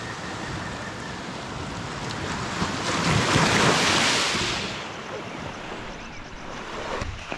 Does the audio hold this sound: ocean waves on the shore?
yes